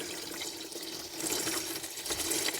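Oil and water draining out of an old tractor engine's drain plug, a soft continuous trickle and splatter, close and fairly quiet.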